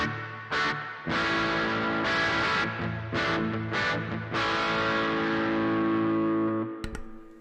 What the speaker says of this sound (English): This is just set up as a basic reverb sound. I'm going to play it all the way